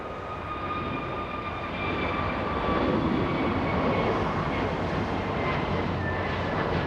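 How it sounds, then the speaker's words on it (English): An American Airlines Airbus A321neo jet airliner at LAX produces a steady, loud engine roar with a broad rumble and whining tones, growing slightly stronger midway and holding without any talk. "American 481 heading to Philadelphia. That's an A321 Neo."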